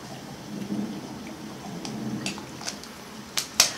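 Steady rain hisses softly with a low distant rumble of thunder, and a few sharp crackling bursts near the end.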